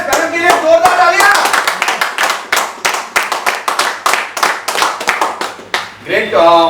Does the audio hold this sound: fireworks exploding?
no